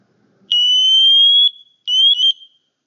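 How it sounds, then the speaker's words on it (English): An SCBA PASS alarm triggered manually by holding the red button: two loud, piercing high electronic tones, the first about a second long, then a short gap and a second shorter burst, sounding alone. "If you want to set off your pass alarm manually, you press and hold the red"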